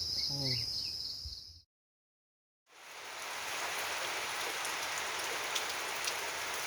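Steady evening rain hisses down on a farm where zucchini are grown, dense and even throughout, broken by a second of near silence before the downpour resumes.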